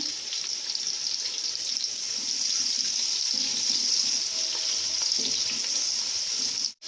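Onions sizzle in hot oil in a pot for Bangladeshi plain pulao, a loud, even hiss that holds steady from start to finish and then cuts off sharply.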